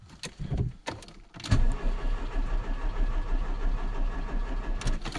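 A Jeep Cherokee engine cranks without catching, its starter turning over in short bursts followed by a longer steady crank, close and fairly loud, with no talk.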